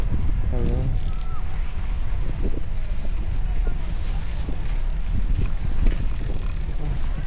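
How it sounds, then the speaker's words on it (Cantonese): Strong gusty wind roars steadily and loudly across a microphone on an icy ski slope at Hoshino ski resort, a constant low buffeting rumble that fills the whole stretch, with a brief voice near the start. "大風啊，包翻住塊面先"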